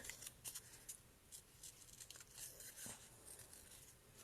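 Several quick snips and crisp rustles of scissors cutting through ribbon, close and fairly quiet, in an irregular rhythm.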